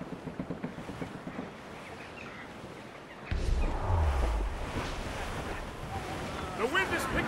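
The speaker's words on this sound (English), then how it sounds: "The wind is picking up!" Wind and surging waves at sea aboard a sailing ship in Assassin's Creed Rogue, a steady broadband rush that swells louder midway, with muffled voices murmuring underneath.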